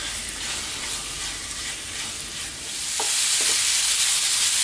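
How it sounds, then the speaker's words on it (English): Chunks of lamb fry and sizzle in a pot for a chickpea stew, with a steady broadband hiss that grows louder partway through and a couple of brief scraping stirs near the end; no voices. "Yeah, give it a few stirs."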